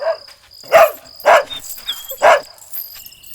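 A tied-up dog barks loudly three times at close range, with whining and whimpering between the barks.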